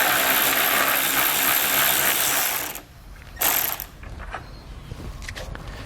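A ratcheting 10mm socket works a grille bolt loose on a 2016 GMC Sierra, with loud, close, continuous clicking for nearly three seconds, then a brief burst and quieter mechanical handling.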